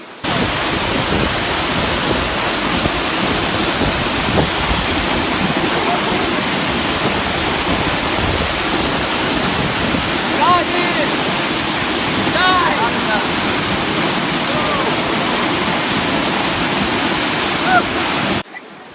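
Piney Falls, a waterfall in Grandview, Tennessee, roars steadily and continuously, a dense, even rush of falling water filling the whole stretch without pause.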